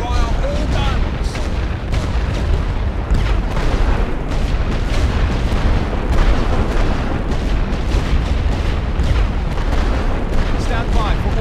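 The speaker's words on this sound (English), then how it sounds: "Start the barrage. Teams ready. Set for barrage. Fire all guns." Sustained artillery barrage from The Great War: Western Front, a dense continuous roar of booming gunfire that stays loud and unbroken throughout, with voices faintly mixed in.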